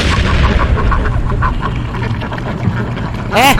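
Ducks quack in a noisy, overlapping cluster over a dense rumbling background, with one sharp bright burst near the end.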